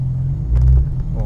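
A BMW M2 Berg Edition sports car pulls away, its low engine rumble swelling briefly before settling into a steady drone, with a faint voice briefly over it.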